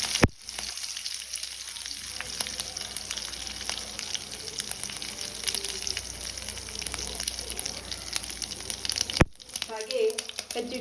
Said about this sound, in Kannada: ಸಾಸಿವೆ, ಸಾಸಿವೆ ಸಿಡಿದ ನಂತರ ಸ್ವಲ್ಪ ಕರಿಬೇವು